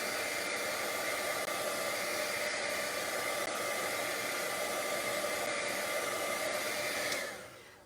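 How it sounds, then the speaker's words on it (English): A heat gun blows hot air onto ribbon, giving a steady, loud, continuous roar that holds for about seven seconds before cutting off and fading quickly. "Keep your heat gun moving, otherwise you'll just burn holes in it."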